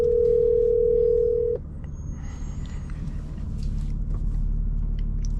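A phone call connects inside a manual BMW M2: a steady tone sounds for about a second and a half over low engine and road rumble, then cuts off, leaving the cabin drone.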